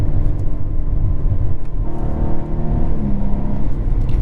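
A 2022 Cadillac CT4-V Blackwing gives a deep, throaty engine rumble with crackling exhaust burbles, loud and continuous throughout, with no talking.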